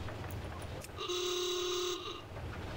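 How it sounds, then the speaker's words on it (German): A goblin vehicle horn in World of Warcraft sounds one sustained, loud, harmonic honk lasting about a second over low engine rumble. "Hupen."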